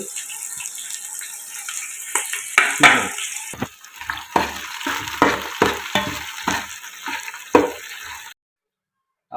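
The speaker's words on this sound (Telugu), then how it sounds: "వేయించిన తర్వాత వేగిన తర్వాత ఉల్లిపాయలు నాలుగు పచ్చిమిరపకాయలు" Onions and four green chillies frying in oil in a pan for Mughlai biryani, a bright hiss with repeated scraping and clanking stirs of a ladle, close and loud before cutting to silence at the end.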